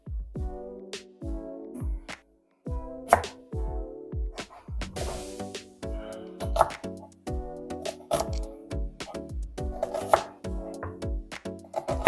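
Knife chopping onions into small pieces on a board, a steady series of close, sharp knocks repeating at an even pace with brief pauses between runs.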